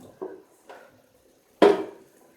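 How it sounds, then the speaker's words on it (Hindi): A spoon pressing cooked chickpeas in a bowl for Lahore-style chanay, giving a few soft clinks and scrapes, the last one sharper and louder, with quiet gaps between. "चाहें तो प्याले के अंदर निकाल के उसको इस तरह से किसी चम्मच वगैरह की मदद से प्रेस कर लें।"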